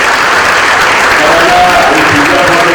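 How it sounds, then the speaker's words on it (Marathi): Loud, continuous applause from an audience at a birthday felicitation gathering, steady clapping filling the whole moment with crowd murmur. "आपण सर्वांनी जोरदार टाळ्या सरांना वाढदिवसाच्या शुभेच्छा व्यक्त करूया"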